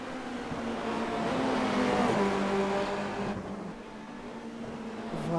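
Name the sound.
Formula Renault 2.0 race car accelerating at Zandvoort in racing video game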